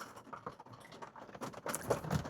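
Soft, irregular pattering of raindrops, quiet and close, with scattered small taps that grow a little denser toward the end.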